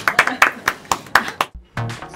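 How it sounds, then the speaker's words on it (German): A few people clap in a small group setting, quick separate slaps in an uneven rhythm close by, then a brief pause before a voice starts speaking. "Applaus für uns alle."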